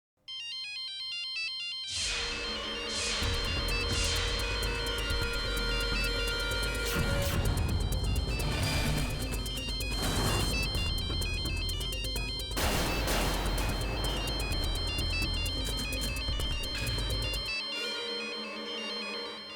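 A mobile phone ringtone plays loud and continuous for many seconds, a melodic repeating tune over a dense backing, without talk, ending abruptly near the close.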